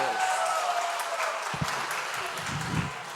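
Students in a class applaud, with light, fairly faint clapping running throughout and a few louder knocks and thumps in the second half.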